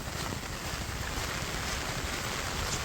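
Floodwater surging through an overflowing river in Chiplun after heavy rain, a constant dense roar of rushing water mixed with wind buffeting the microphone.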